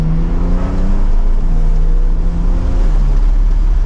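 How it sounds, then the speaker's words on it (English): A Porsche 911 Targa 4S drives with its roof down, a loud, constant rush of wind buffeting over a low engine drone whose pitch slowly falls and shifts as the car moves. "Wind noise is kind of what you would expect"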